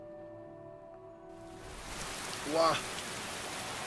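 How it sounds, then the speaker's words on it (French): Steady rain hisses softly in the Skyrim video game, a faint even wash that swells slightly, with a brief exclamation from a voice partway through. "Il pleut de plus en plus fort"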